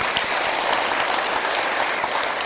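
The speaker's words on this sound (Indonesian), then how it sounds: "Tepuk tangan dong." Steady, dense clapping from an audience at a talk, broadband and sustained without a break, with no voices on top.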